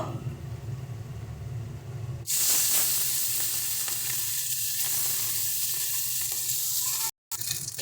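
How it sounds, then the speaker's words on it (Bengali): A loud, steady sizzle of morola fish frying in hot oil starts abruptly after a quieter stretch, continuing nearly unbroken with one brief cutout near the end. "একইভাবে বাকি যে মাছগুলো আছে সেগুলোকেও আমরা ভেজে নেব"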